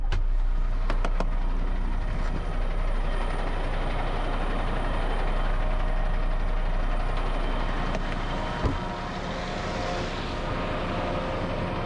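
A truck approaching from a distance, a steady broadband rumble and road roar that holds fairly even over several seconds, with a brief clunk near the end.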